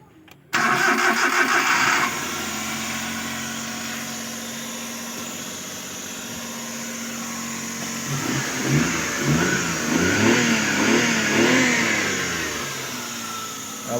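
A Suzuki DA64V multicab with a K6A engine and a white smoke problem cranks briefly, catches and idles steadily up close, then is revved in several rising and falling bursts.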